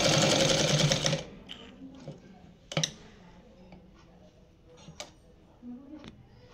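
Sewing machine stitching along the edge of petticoat fabric, a loud whirring run for about a second, then intermittent clicks and soft mechanical ticks with faint talk nearby.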